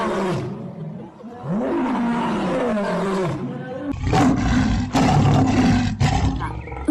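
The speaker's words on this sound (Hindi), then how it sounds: "जल्दी शेर जाल में फंस गया और वह डर गया, जोर जोर से दहाड़ने लगा।" A lion roars loudly and fearfully, caught in a hunter's net hidden in grass, several long powerful roars in succession, close and dominant, with deeper rumbling bursts in the second half.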